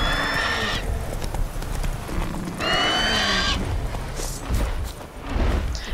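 A horse in The Witcher 3 whinnies twice, loud and close, with hoofbeats and clattering game sounds around the neighs.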